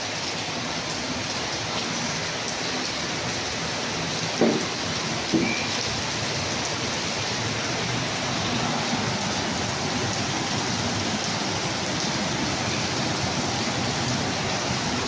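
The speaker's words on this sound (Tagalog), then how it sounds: "Lakas ng ulan." Heavy rain pours steadily in a dense, even roar, with a couple of faint knocks partway through.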